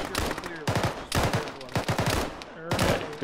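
Repeated bursts of weapon fire in the military shooter ArmA 3, four loud clusters of shots separated by short gaps, sounding fairly close, with faint voices partly mixed underneath.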